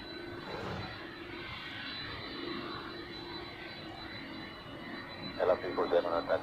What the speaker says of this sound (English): we have 2 767s in a row of the same operator, both freighters and both with the same destination